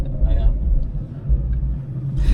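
A Ford Cortina Mk5 1.6 GL engine being bump started, heard as a steady, loud low rumble of a car engine throughout, with faint voices over it.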